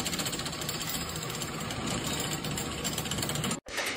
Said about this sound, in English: An automated assembly machine fitting metal bars together with a series of precise robotic movements